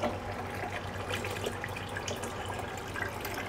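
Hot witbier wort at about 30 degrees runs into a fermenter during home brewing, a continuous close trickling and splashing pour holding steady without pauses.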